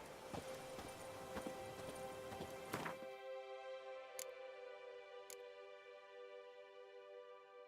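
A horse's hooves clip-clop in The Witcher 3: Blood and Wine, a dense run of hoofbeats that stops abruptly, followed by a few isolated taps over a quiet ambient tone.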